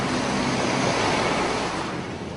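Vehicle pushing through deep floodwater during the wet season, a steady broad rushing surge of water from the bow wave, loud and close with a slight fade near the end, no talking.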